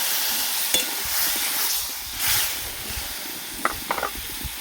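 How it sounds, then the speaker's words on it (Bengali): Water poured into a pan of frying potato and pumpkin curry, a hissing sizzle that swells briefly, followed by a few light clinks of a spoon against the pan, close and moderate in level. "এবার এটার মধ্যে অল্প জল দিয়ে দেবো।"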